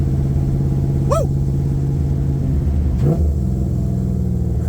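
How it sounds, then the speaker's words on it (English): LS3-swapped 1969 Camaro with a fully custom exhaust rumbling at around 40–45 mph, with two short downshift blips, a quick rev flare near the start and another near the end, over a steady loud drone heard from inside the car. "Crispy downshifts."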